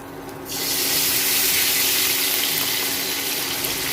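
Water is poured steadily into a pan of tempering seasoned with oil, mustard seeds, curry leaves, slit chilies and a little sugar for Gujarati dhokla, a loud continuous splashing rush that starts abruptly and keeps going.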